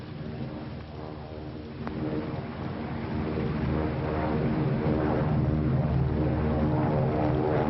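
Propeller airplane approaching an airfield to land, a steady droning engine hum that grows gradually louder and nearer over several seconds.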